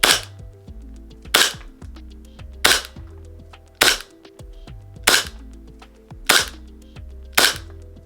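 A Vorsk Hi Capa 4.3 airsoft gas blowback pistol firing on green gas with .20 gram BBs, seven sharp, close cracks evenly spaced about a second apart, each followed by a brief mechanical rattle.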